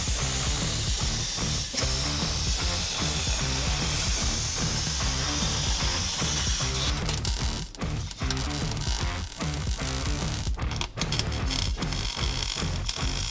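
Steel brackets being cut on a CNC table: a loud, steady hissing roar with rapid crackling pulses running throughout, close and unbroken, with no voices.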